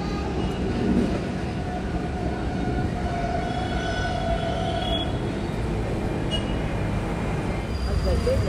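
Inside a moving metro train, a dense, even rumble of wheels and carriage noise fills the whole stretch, with faint high squeals and a muffled voice somewhere under it.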